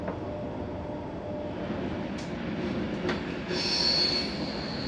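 An overnight TCDD sleeper train running from Ankara to Izmir gives a steady, close rumble of cars on the rails, with brief metallic squeals partway through and a louder, higher wheel squeal near the end.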